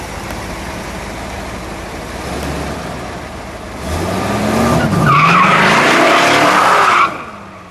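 A green 1969 Dodge Charger Daytona with a 426 Hemi revs loudly and breaks into a long, shrieking tire squeal as it does a burnout in a parking lot, growing louder up close before cutting off abruptly.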